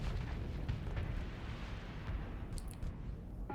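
Torpedo explosions from fighters striking ships in the space combat game Starsector, deep rumbling booms rolling over one another with a few sharper bursts near the end, no talking.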